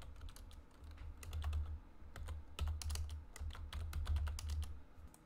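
Rapid clacking keystrokes on a computer keyboard while a new employee record is entered into an Excel VBA search form, steady and close with uneven bursts of taps and no talking.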